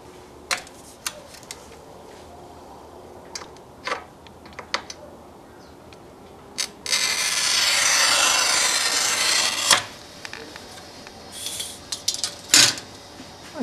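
A sustained rasping scrape lasting a few seconds, a glass cutter scoring aquarium glass, framed by scattered light taps and clicks in an otherwise quiet room.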